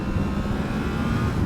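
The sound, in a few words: Yamaha R1 motorcycle engine revving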